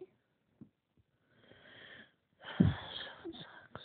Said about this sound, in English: But I know he's breathing heavy.